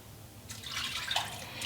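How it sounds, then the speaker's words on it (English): Two cups of water poured into a soup pot for a homemade bean and bacon soup, a steady splashing trickle that begins after a brief pause and runs close and fairly soft. "I'm also going to add 2 cups of water."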